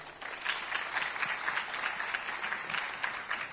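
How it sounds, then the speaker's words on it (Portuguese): Audience applause after a speaker is introduced at a security conference, steady dense clapping filling the room throughout at moderate level with no voices over it. "Peço a todos que recebam com aplausos, Leonardo Moreira."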